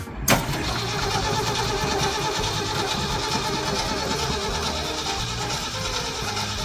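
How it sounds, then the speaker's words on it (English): A brief click, then a truck's engine cranks over on a very quiet starter and runs with a steady, even mechanical whir, close and continuous. "That's the quietest starter I've ever heard"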